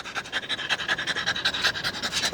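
A dog pants rapidly and steadily close by, a quick, even string of breathy huffs with no voices over it.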